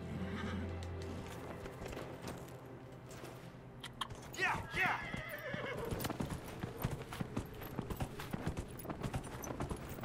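A horse in Dragon Age Inquisition clip-clops along at a steady rhythm, whinnies clearly partway through, and keeps walking under quiet game ambience.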